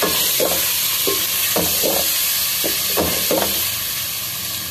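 Tomatoes and spices stir and fry in a pot for white turnip and meat curry, with steady sizzling and hiss under a series of scraping spoon strokes, close and loud, no talking.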